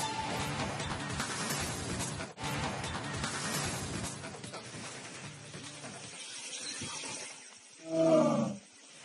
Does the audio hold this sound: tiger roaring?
yes